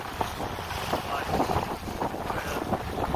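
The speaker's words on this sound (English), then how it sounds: "But the wind started off strong, still kind of strong." Strong wind roars across the microphone aboard a sailboat crossing the Gulf Stream at sea, with waves and water rushing beneath a continuous buffeting rumble and a faint high whine.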